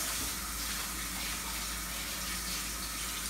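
Fruits washed under a running sink tap in a kitchen, a steady, soft hiss of flowing water, continuous and fairly quiet.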